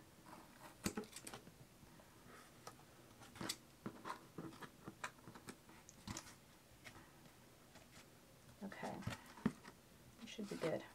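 Scissors snip off the protruding paper edges of a paint-pouring platform, a series of short crisp cuts and rustles at close range, with quiet pauses in between and a louder cluster of snips near the end.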